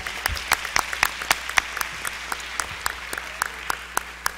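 An audience at a school board meeting applauds a student athlete, a sparse, sharp clapping with distinct individual hand claps standing out against a thin room background, moderately quiet and steady throughout.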